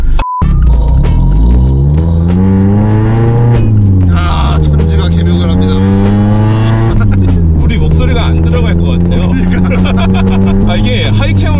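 A Mazda Miata MX-5 with a high-lift cam roars through a loud, deep tuned exhaust, rising as the engine revs repeatedly, rumbling close up, with a voice talking over it.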